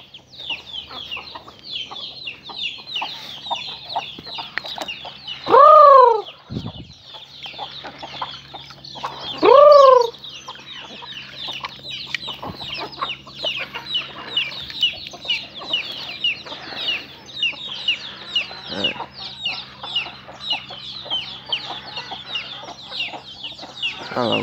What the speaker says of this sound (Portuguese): Olha lá o galinho novinho.